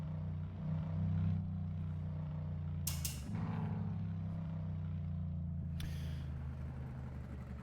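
Low-revving V8 race car engine in a racing video game drones steadily at moderate level, with brief bursts of higher-pitched noise during the run, no talk.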